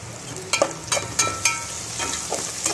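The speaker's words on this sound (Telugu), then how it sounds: "కొంచెం ఆనియన్ మంచిగా వేగనివ్వండి" Chopped onions fry in hot oil with curry leaves and turmeric for a raw banana and moong dal curry. A steady sizzle runs throughout, broken every half second or so by scraping stirs.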